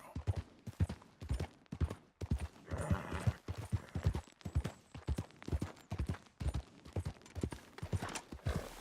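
A horse's hooves clip-clop in a steady trotting rhythm in the Red Dead Redemption II video game, loud and close, repeating throughout with a brief rougher patch partway through.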